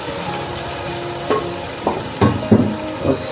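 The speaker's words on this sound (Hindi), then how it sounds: "साथ ही इसमें मैं आलू डाल दूँगा" Potatoes frying in a hot pan for aloo methi bhujia, a loud continuous sizzle with occasional stirring clatters and bumps.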